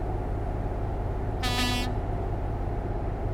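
A truck horn in Euro Truck Simulator 2 sounds one short, clear honk over a constant low engine rumble.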